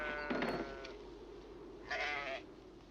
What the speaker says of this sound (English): You have lovely sheep.